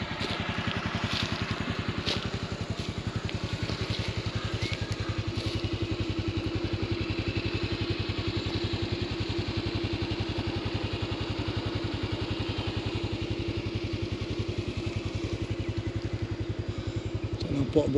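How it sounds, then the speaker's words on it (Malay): A motorcycle engine runs steadily throughout while riding through a durian orchard, a constant mid-pitched drone with light clatter and wind, and no clear speech over it. "Naik motor kita cari durian."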